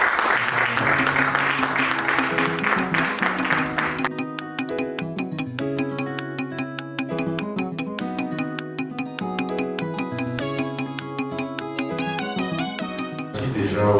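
Audience applause at a conference on cultural industries lasts about four seconds, then gives way to steady instrumental music with a brief burst of clapping near the end.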